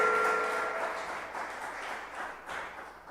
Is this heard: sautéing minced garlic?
no